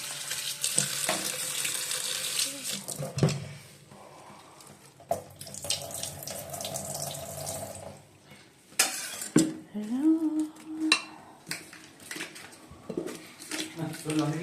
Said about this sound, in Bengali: চলো বাঁধাকপিটা ধুয়ে নিই